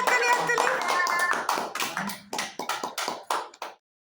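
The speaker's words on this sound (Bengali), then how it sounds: "হাততালি হাততালি" Hands clap at a family Bhai Phonta gathering, first a dense, overlapping burst of applause and then a run of separate, closer claps that die away, with voices mixed in.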